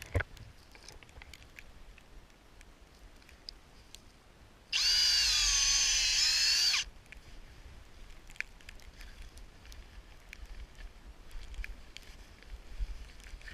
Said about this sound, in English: We drill a 2-inch deep hole.